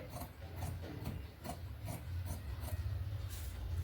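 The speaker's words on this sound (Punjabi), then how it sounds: "ਸਭ ਤੋਂ ਪਹਿਲਾਂ ਮੈਂ ਜੋ ਸਿੱਧੀ ਲਾਈਨ ਡਰਾ ਕੀਤੀ ਇਹਨੂੰ ਕਟਿੰਗ ਕਰ ਲੈਣੀ ਹੈ" Scissors cut heavy suit fabric along a drawn straight line, a close, quiet run of rhythmic rasping snips and rubbing of cloth on a surface, with no talk over it.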